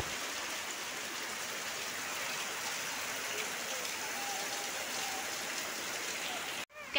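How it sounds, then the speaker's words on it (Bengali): Heavy rain pours down steadily, a dense, even hiss that holds for several seconds before a brief dropout and a clatter at the end. "প্রচন্ড জোরে বৃষ্টি হচ্ছে।"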